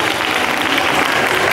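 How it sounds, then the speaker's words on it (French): Audience applause fills a convention panel room at Paris Manga, a dense, loud, continuous wash of many hands clapping with no talk above it. "On applaudit, s'il vous plaît."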